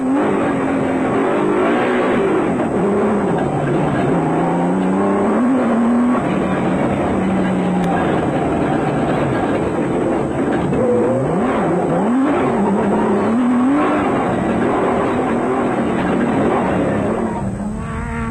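A proudly South African Nissan Hardbody off-road race truck drives hard through a 2003 South African desert-style off-road race, its engine droning loudly and steadily with rising and falling revs throughout.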